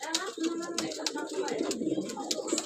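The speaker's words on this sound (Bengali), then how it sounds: "আমার মেন কবুতরের বাচ্চা" Soft repeated cooing from pigeons, several low rounded calls in a loose rhythm, heard close with light chirps and a voice in the mix.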